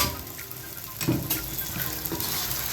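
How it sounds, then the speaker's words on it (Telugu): Chicken frying in oil with masala gives a close, steady sizzle with a few stirring clunks, brief and without speech. "ఇప్పుడు చికెన్ వేసుకుందాం. మిగతా అది చికెన్లో వేగిపోతుంది."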